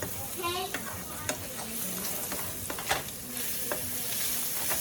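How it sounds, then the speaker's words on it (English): Onions sauté in a pan for burgers, giving a continuous close sizzle with occasional sharp pops and light stirring clicks, with no voices over it. "is sauteing with my onion"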